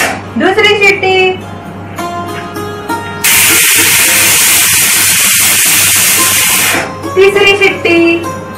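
A stovetop pressure cooker of tomatoes vents one long, loud, rushing whistle of steam for roughly three and a half seconds, with someone speaking briefly before and after.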